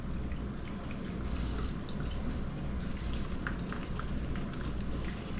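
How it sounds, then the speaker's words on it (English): Muscadine juice drips through a strainer, making a dense patter of small, quiet drips and droplets over a faint steady background hiss. "I can hear it in there dripping."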